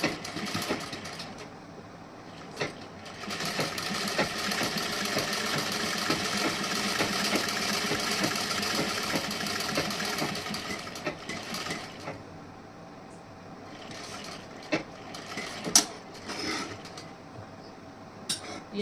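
A sewing machine stitches a princess-cut blouse in a long, steady run of mechanical whirring. It eases off toward the end and gives way to a few short clicks and bursts.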